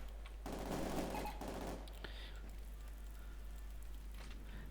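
Machine gun fire in a Company of Heroes 2 battle, a dense rattling burst of about a second and a half followed by quieter scattered shots and game ambience.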